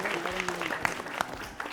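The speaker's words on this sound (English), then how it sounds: "Let's clap for him." A quiz show audience claps briefly, a short burst of scattered applause in a studio, with a host's voice running over it.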